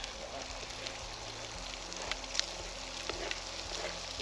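Onion dropped into a hot frying pan gives a steady, close sizzle and crackle with scattered pops, no talking over it.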